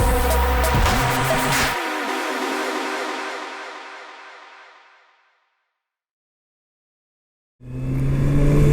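A 2019 Kawasaki Ninja ZX-6R motorcycle with a throttle surging fault rides on the road, its engine loud and steady at first, then dying away into near silence before roaring back in the final second.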